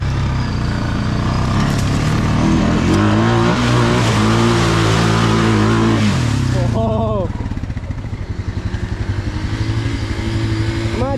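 A Timberwolf 250 ATV engine revs hard as it churns through mud, a loud sustained roar that drops to a lower, pulsing idle partway through, with voices talking over it.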